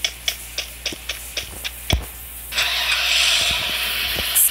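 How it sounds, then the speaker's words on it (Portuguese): A small car is started and driven in the battle-royale shooter Free Fire: a run of sharp ticking clicks, then a steady loud engine hiss and rumble as it moves off, with no voices. "Esse carrinho aqui devagar, né?"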